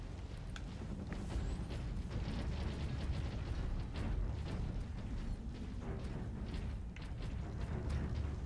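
Grenade explosions in the Space Marine video game, heavy rumbling blasts and debris crackle rolling on for several seconds amid dense battle noise, with no one speaking.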